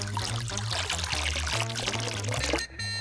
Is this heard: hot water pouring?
yes